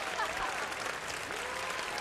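Applause rises in Red Dead Redemption 2 as an audience at a stage show claps for a performer, steady and moderately distant, with faint voices mixed underneath.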